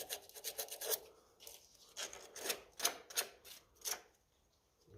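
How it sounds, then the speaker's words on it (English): Sandpaper rubs a Ferguson 35 tractor rotor arm in short, quick scratchy strokes, close and fairly faint, coming in irregular bursts with brief pauses between. "We have a bit of sandpaper there, I'm sure we do. Just give him a little rub."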